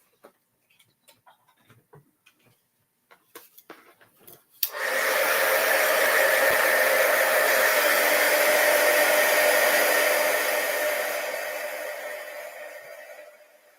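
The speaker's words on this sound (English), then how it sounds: "I did not plug my heat gun in." A heat gun switches on after a few faint clicks and handling noises, then blows a loud, steady roaring rush of air close by for about nine seconds before tapering off slightly.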